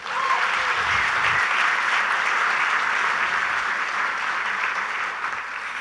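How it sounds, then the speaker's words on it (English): Sustained audience applause at a community conversation on poverty, a thick, even roar of many hands clapping that holds steady throughout and tapers slightly near the end, with no talk over it. "Can y'all clap for that?"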